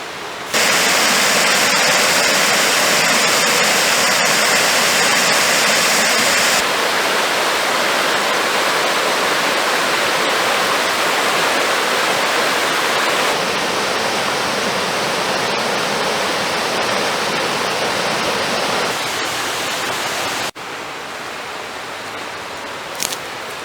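Steady roar of a waterfall at Gully Lake, loud and constant, a dense broadband rush of falling water filling the scene with no voices, dipping slightly near the end.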